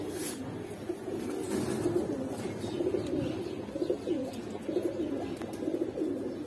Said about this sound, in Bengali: এটা আমরা বাবরা কবুতর বলি।